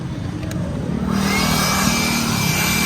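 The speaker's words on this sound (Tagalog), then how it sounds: "Ayan, yung demo niya, yung blower." A battery leaf blower spins up after a moment of quiet and holds a loud, steady whirring rush with a faint high whine.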